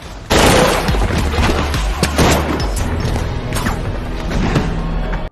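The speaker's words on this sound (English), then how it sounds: "Kicking off a gunfight in which Victor is shot." A film gunfight plays out as a loud, continuous barrage of overlapping gunshots, booms and crashes with mechanical clatter that runs for about five seconds before cutting off abruptly.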